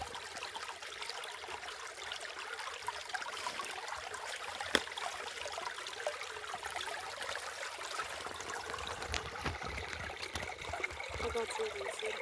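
A small forest stream trickles steadily along a woodland trail, a soft, continuous babbling wash of water heard close by with no voices.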